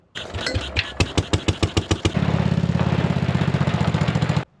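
Small 1957 Gard'n Mast'r tractor engine fires in a few separate pops, then settles into a fast, steady, loud high idle close by.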